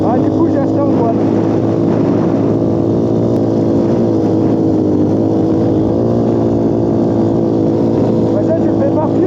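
A quad bike engine runs steadily and close on a snowy road, a continuous droning hum with slight swells as the throttle shifts and no clear pauses.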